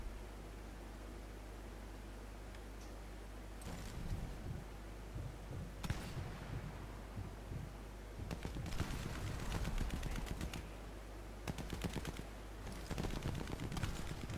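Enemy gunfire in Sniper Elite 4 on a monastery level, quiet and distant bursts of shots and rapid fire at irregular intervals over a steady noisy background.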